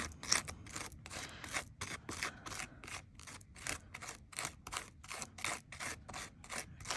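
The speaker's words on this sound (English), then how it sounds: "this is a very gritty texture paste. You can hear it's not a smooth, silky one." Gritty texture paste is stirred gently by hand for metal tape art trading cards, giving a rapid run of dry, scratchy scraping strokes that repeat steadily and close up, with no talking.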